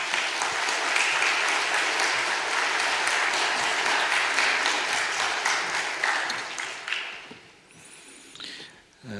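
A church congregation applauds loudly and steadily for a visiting pastor, a dense wash of many hands clapping that carries on for several seconds before thinning out near the end.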